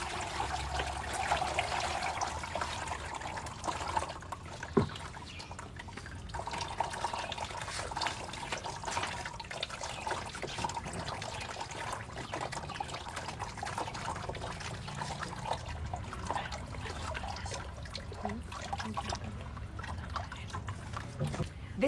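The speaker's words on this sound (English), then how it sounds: "So what we do is that we pour inside the sieve, push it down" Clay slurry poured through a sieve and pushed down by hand at an outdoor youth skills workshop, giving a steady wet trickling and dribbling with occasional drips, running continuously under people talking nearby.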